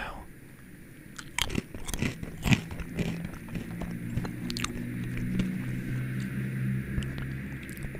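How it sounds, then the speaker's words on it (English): Tortilla chips crunch with several sharp, close bites, then steady chewing follows, intimate and near the microphone in a quiet setting. "I'll have one of the tortilla chips now."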